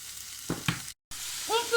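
Lardons hit a thin film of hot oil in a frying pan, giving a short close sizzle broken by brief clatter and a momentary gap, then the frying hiss resumes.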